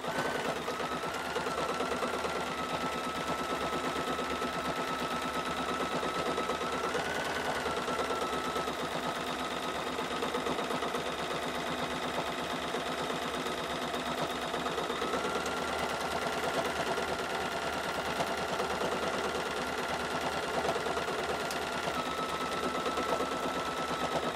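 Sewing machine running steadily during free motion quilting of a string of pearls design, a continuous close mechanical whir with a fast needle rhythm that slightly shifts pitch.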